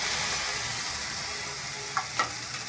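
Prawns go into lightly reddened frying onions in a pan: a constant close sizzle, then two quick clattering knocks near the end as the prawns drop in.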